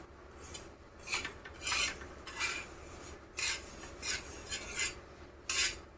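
Flaxseeds being dry-roasted in a pan over a low flame, stirred in repeated bursts of dry, raspy scraping and rustling with short quiet gaps between strokes.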